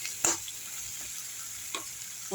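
Masala for a thoothuvalai greens chicken chops dish sautés in a pan with a soft continuous sizzle, broken by a few sharp scraping stirs of a spoon.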